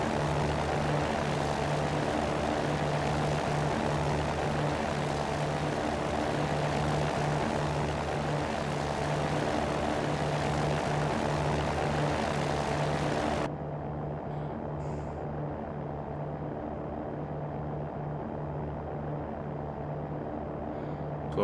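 Steady propeller drone of a Cirrus SR20 slowing down in X-Plane 11 over Hawaii, a continuous hum with a low tonal buzz that holds unchanged, then the upper hiss abruptly drops away partway through as the engine note softens.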